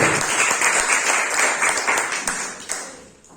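Steady applause from a large church congregation during a sermon, dense clapping that holds at full strength and then fades toward the end.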